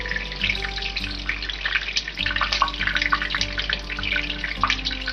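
Baby eggplants frying in hot oil in a kadhai, a dense, continuous sizzle and crackle with scattered pops and bubbling, close and steady throughout under a low hum.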